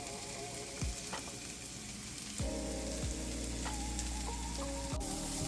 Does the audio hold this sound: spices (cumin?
yes